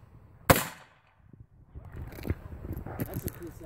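An anti-tank rifle grenade is fired outdoors, giving one sharp, loud bang early on that fades quickly, followed by faint rustling and people talking quietly.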